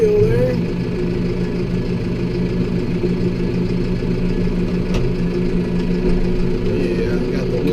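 A 100hp yard tractor engine runs steadily at close range while its spear is worked into the centre of a wheel, a continuous mid-pitched rumble with no clear revving.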